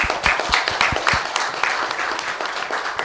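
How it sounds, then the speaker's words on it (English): Applause for the participants at a talent competition grand final, with a few loud, distinct claps near the front over a lighter, continuous spread of clapping from the rest of the audience. "a big round of applause to all the participants"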